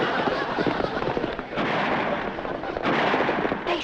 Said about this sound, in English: They shooting at us.